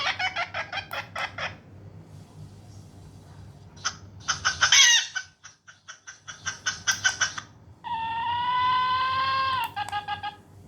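Recorded chicken calls and rooster crowing play from a remote-controlled call speaker, with rapid bursts of clucking, several crows and a long sustained call, loud and close against quiet background.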